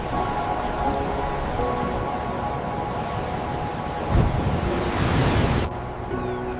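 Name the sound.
ocean waves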